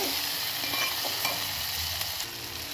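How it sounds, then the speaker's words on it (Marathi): Kolhapuri masala tempering of kasuri methi, coriander powder and garam masala frying in oil, with a steady close sizzle and soft scraping strokes of a spoon stirring the pan. "तेल सुटेपर्यंत आपल्याला हे आता परतून घ्यायचं आहे।"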